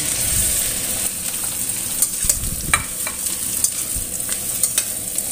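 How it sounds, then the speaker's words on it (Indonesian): Tempeh stir-fries with spices in a pan, making a continuous loud sizzle broken by repeated scraping stirs and small clatters. "Ini tempenya ditumis agak lama ya, biar aroma tempenya itu juga keluar."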